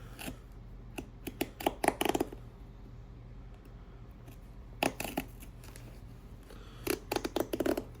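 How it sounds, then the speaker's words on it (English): A knife slices through the stitching on a Tecovas leather boot sole in short, close bursts of snipping and cutting, separated by quiet pauses, with no talk. "I'm gonna cut the sole off, the stitching."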